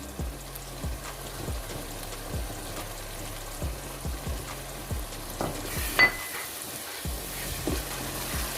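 Spices with turmeric and dry coriander stirred together in a hot pan: a soft, steady sizzle with regular rhythmic scraping strokes, close by and with no talking.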